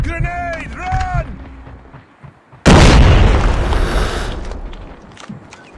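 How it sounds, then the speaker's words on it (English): A grenade detonates in Call of Duty Mobile ranked team deathmatch, a sudden loud boom that rolls off into a long rumbling decay, preceded by a short voiced radio callout and quieter game noises. "Grenade, run!"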